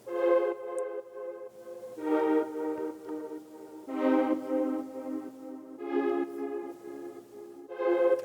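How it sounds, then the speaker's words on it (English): Oberheim-style detuned synth pad from Omnisphere, swelling in repeated sustained chords with soft attacks, moderately loud and alone without speech. "That sound is just amazing. I think it's an Oberheim 8."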